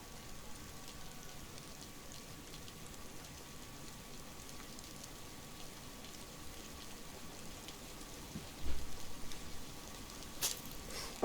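Steady rain falls in the DayZ video game, a constant even hiss that stays soft throughout, with no talking over it.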